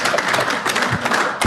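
An audience at an automotive aftermarket service education conference session breaks into dense, steady applause that fills the room close and loud, with no talking over it.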